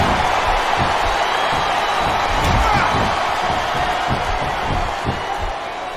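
Dense, steady roar of an arena crowd cheering in the wrestling video game SVR 2007 on Xbox 360, continuous and loud throughout with a slight fade near the end.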